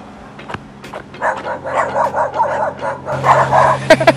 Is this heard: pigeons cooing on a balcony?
no